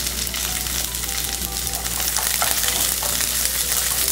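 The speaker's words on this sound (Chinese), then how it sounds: "洋葱葱摆下来" Sliced onion stir-frying in a wok over high heat in leftover oil, a steady loud sizzle throughout with a few soft scrapes of the spatula toward the end, no talking.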